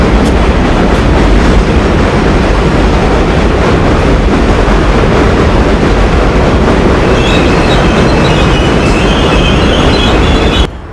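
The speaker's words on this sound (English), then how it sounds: "We got the 6 train." A New York subway 6 train roars past at Pelham Bay in the Bronx, loud and close with rumbling wheels and a high metallic squeal toward the end before cutting off.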